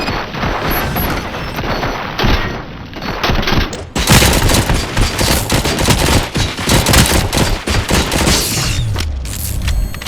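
Dense, loud gunfire rattles almost nonstop in the Robocop Rogue City video game, with booming impacts and machine-gun bursts layered together, building into a heavier barrage partway through and then thinning toward the end.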